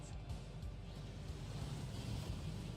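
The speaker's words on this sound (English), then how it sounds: "That waterfall washes away all enchantments." A rushing waterfall in Hogwarts Legacy that washes away enchantments, heard as a steady, dense roar of falling water that holds level throughout.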